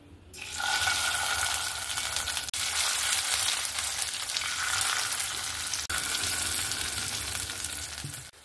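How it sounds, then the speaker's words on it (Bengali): Fish roe fritters sizzle and crackle in hot oil, a loud continuous frying hiss up close with a couple of brief interruptions. "বাদ বাকি আর যতটুকু আছে সেটাও ভেজে নেব"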